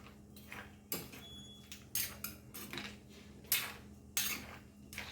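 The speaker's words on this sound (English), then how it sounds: "Now we'll cover this" A pot being covered with its lid during cooking of potatoes for Goan clam stir-fry, heard as several sharp metallic clinks and scrapes at irregular intervals, close by over a low steady hum, with no talking.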